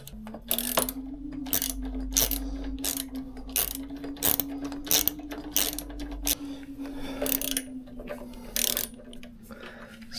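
A bolt being screwed in with a ratchet on a BMW R1100GS motorcycle during crash bar fitting, giving repeated quick ratcheting clicks in short bursts over a low hum, close and fairly quiet.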